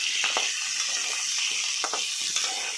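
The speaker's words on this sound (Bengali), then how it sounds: "এবার আমি আলুগুলোকে ভাজতে থাকি" Potatoes frying in hot oil in a pan give a steady, loud sizzle, with a few faint scrapes and taps of a spatula stirring now and then.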